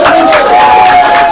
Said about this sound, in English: Let's give it a big applause.